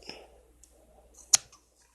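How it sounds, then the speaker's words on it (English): A faint snip, then a short pause, then one crisp, close scissor cut through cotton wick, with near silence around them. "Grab my scissors."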